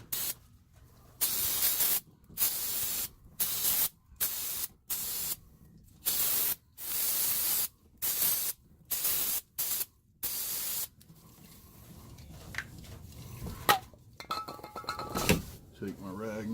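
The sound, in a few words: brake parts cleaner being sprayed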